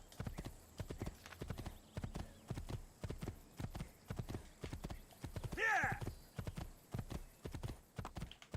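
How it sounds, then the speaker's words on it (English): Rhythmic clip-clop of a galloping horse with a loud whinny partway through, close and clear. "I'm on a horse"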